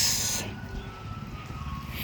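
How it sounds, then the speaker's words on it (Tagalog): Liquid fertilizer sprayed onto garden plants, a loud close hiss of spray that eases into a softer, steady airy spraying noise. "pag nag-spray kami ng liquid fertilizer"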